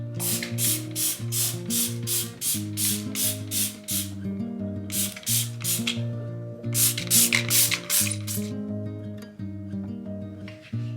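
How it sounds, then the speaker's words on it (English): Rapid bursts of a spray bottle, quick pumps in clusters with short pauses between, close by over steady background music. "I'm going to spray all that and spray the taps as well"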